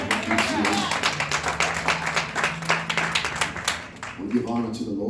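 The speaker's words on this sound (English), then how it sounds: "Give him a hand clap of appreciation." A church congregation claps in appreciation, a dense round of hand claps that swells and then thins, with a voice speaking and a low organ-like tone underneath.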